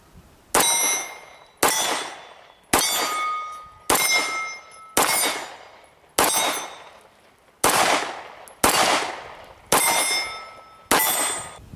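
Ten sharp shots from a Sig Sauer P226 Mark 25 9mm double/single-action pistol, evenly spaced about a second apart, each a loud crack with a ringing metallic decay, no talking.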